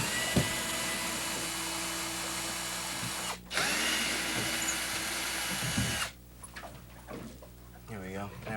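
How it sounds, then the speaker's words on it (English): A power drill whirs steadily for about six seconds, unscrewing a light fixture on a boat, with a brief pause midway, then stops, leaving quieter sounds and a voice at the end. "take the drill and unscrew this light"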